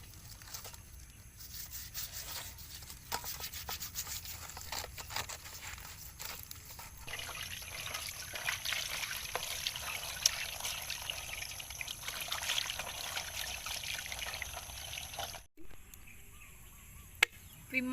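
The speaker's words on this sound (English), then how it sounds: "We clean our fish with salt to reduce the dirty of our fish." Fish is rubbed and cleaned with salt and water, giving a faint, continuous wet trickling and scrubbing close by, with a brief pause near the end.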